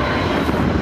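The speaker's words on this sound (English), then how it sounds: "The monster plane appeared over the Perth hills" An Antonov An-225 Mriya flies over the Perth hills, a loud, steady roar of large aircraft engines filling the brief moment without voices.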